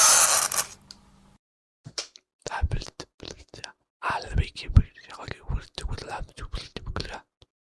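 Someone whispers close by in short breathy bursts with brief pauses, the hushed voice soft and airy with no full speech.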